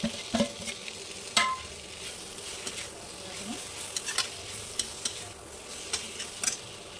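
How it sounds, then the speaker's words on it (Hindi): Fried vegetables are stirred into oily masala in a kadai for kadai paneer, with a continuous sizzle and repeated sharp scraping clicks of the spoon against the pan. "अब ये सब्ज़ी मैं भूज के रखी हूँ, ये सबको मैं डाल दूँगी"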